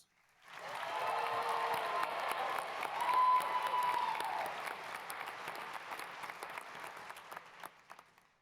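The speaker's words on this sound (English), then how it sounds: "So let's give them a big round of applause." An arena crowd at a university undergraduate commencement breaks into applause with some cheering and whistles, swelling early, then thinning into scattered claps as it fades.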